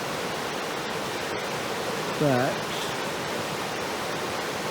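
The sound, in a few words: rushing river water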